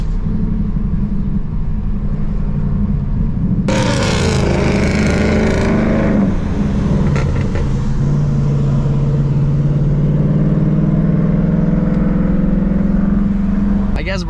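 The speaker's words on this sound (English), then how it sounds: "So it's boosting, it's a 5-liter V8, he's pulled and he's gonna gap this shit out of us." Supercharged 5-liter V8 Jaguar pulling hard nearby, a loud sustained engine roar with a rising rev sweep and a steady droning pitch over constant road rumble, while people talk.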